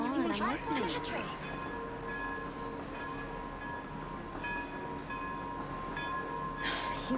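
A train stands at a station in the video game Seznograd, giving a steady rumbling hum with sustained tonal whines. A brief warbling voice-like sound opens the scene and a burst of hiss closes it.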